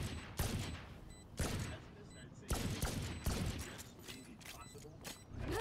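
Rapid gunfire from the tactical shooter Valorant, several loud sharp volleys of shots in quick bursts with brief gaps between them, crisp and close against faint background game noise.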